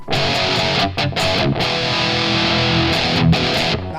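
A loud, heavily distorted GTRS Intelligent electric guitar plays chugging chords and sustained notes with brief gaps, dense and saturated throughout.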